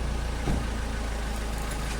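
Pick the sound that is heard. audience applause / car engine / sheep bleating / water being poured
car engine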